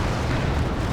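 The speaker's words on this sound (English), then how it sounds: "Pack destroyed. Emplacement destroyed by the enemy." A pack howitzer emplacement blown up in the WWII strategy game Company of Heroes 2, heard as a dense, rumbling explosion that fills the whole second with broadband noise.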